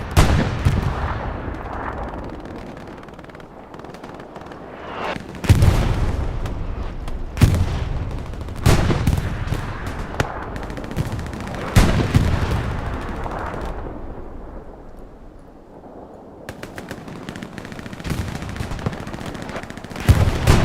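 Artillery shells from a World War II-style barrage in the Hell Let Loose game on Omaha Beach, booming repeatedly in heavy, irregular bursts with rumbling tails and scattered gunfire between them, loud and without talk.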